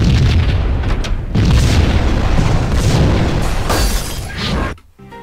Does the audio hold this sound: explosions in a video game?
yes